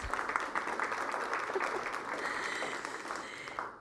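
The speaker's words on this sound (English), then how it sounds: "Round of applause." An audience at a business innovation pitch showcase applauds a speaker being introduced, a soft, even wash of clapping that holds steady throughout and fades out at the very end.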